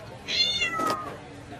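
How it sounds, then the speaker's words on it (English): A single short cat meow, clear and close, rising then falling, followed by quiet room tone. "is that a cat in here?"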